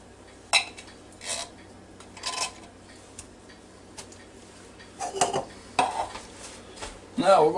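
Spoon or spatula scrapes and knocks inside a Ninja Foodi Deluxe pot while cheesy vegetable casserole ingredients with Campbell's cream of mushroom soup are mixed, in irregular bursts of clatter and scraping between quiet gaps.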